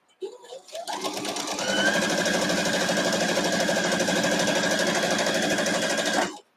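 A sewing machine stitches a quilt block in one long, steady run of rapid mechanical clatter that starts up quickly, holds a constant pace for several seconds, then stops abruptly.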